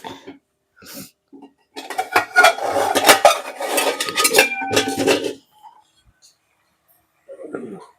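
A metal lid is set onto a cooking pot while onion paste fries for a Sunday tamarind fish curry. Close metallic clatter and scraping run for several seconds, followed by a short pause and a brief faint sound near the end.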